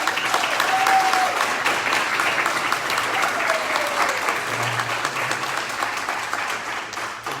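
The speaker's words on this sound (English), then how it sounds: "So a big round of applause for Ms." A big round of applause greets a colleague retiring after 35 years, with a loud, sustained wash of clapping that holds steady throughout and tapers slightly at the end.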